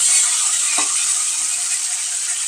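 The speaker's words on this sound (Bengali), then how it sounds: "এখানে মাছটা ভাজছি" Fish frying in a pan makes a continuous close hiss of sizzling oil, with one brief clatter near the start.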